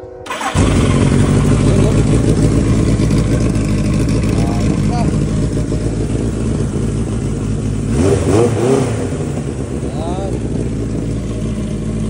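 1980 Suzuki GS1100E motorcycle engine started and running close by, a loud steady idle with a few throttle blips that swell the roar before settling back.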